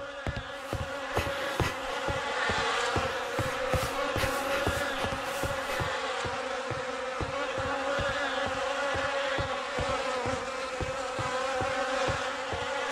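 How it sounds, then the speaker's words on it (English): Insects buzzing in a swamp in a video game, a dense, steady drone of many buzzing wings with a rapid pulsing texture, loud and continuous throughout. "The air is heavy with the stink of rot and the buzzing of those damned insects."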